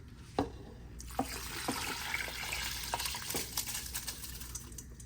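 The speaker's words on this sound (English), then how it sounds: "Now, I'm going to pour the rice in with its liquid." Rice and its cooking liquid poured into a pot for Palestinian makhloobah, a steady close splashing pour of water with a few bright drips and knocks, lasting several seconds without talk.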